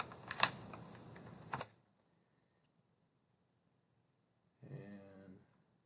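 A computer keyboard clatters in a quick burst of close taps, then goes quiet before a short voice is heard.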